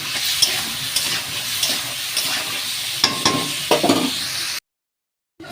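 Spices with turmeric frying in a pan for a thin fish curry, a close crackling sizzle with several spatula scrapes and clatters, stopping abruptly into silence near the end.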